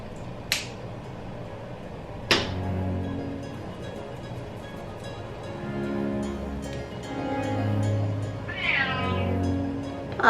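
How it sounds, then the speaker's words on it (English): A hungry cat meows repeatedly indoors, its cries rising and falling over a low background hum. Two sharp clicks or snaps occur early on. "What are you meowing at me for?"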